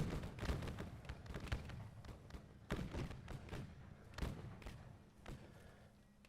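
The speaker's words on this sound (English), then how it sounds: "Cannon fire being dropped all over the place." Napoleonic cannon fire in Age of Napoleon, a Waterloo line battle with the BCoF mod and over 400 players, lands as frequent muffled thuds and distant booms that roll irregularly at a low level.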